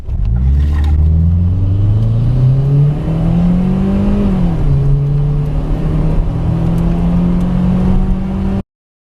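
A turbocharged Subaru running a VF39 turbo at 8 psi accelerates hard from a floored throttle, its loud engine note climbing steadily in pitch, dipping briefly at a shift, then droning on before cutting off abruptly.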